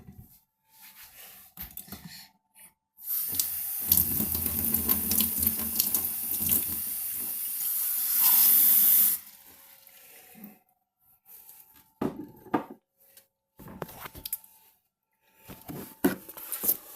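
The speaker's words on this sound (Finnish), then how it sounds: "Mä otan täältä vesiä." Tap water runs steadily into a sink for about six seconds, loud and close, then cuts off, with quieter handling noises and faint clatter before and after; no one speaks.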